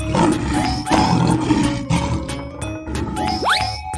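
A lion roars loudly and close in one sustained, rumbling call lasting several seconds, with a rising sweep near the end.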